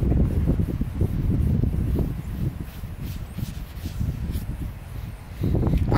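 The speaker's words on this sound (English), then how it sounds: "The wind is pretty much whooping here." Strong wind blowing outdoors, a steady low roar of wind buffeting the microphone with gusts rising and falling throughout, loudest at the start and end, no speech.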